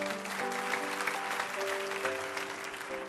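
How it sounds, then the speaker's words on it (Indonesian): A church congregation applauds steadily during a sermon, dense broadband clapping from a crowd with faint sustained organ or keyboard tones underneath. "Beri tepuk tangan untuk Tuhan"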